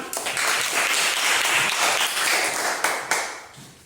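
Classroom group clapping on a teacher's cue, a burst of many small hands that sustains, then tapers off with a few scattered late claps near the end.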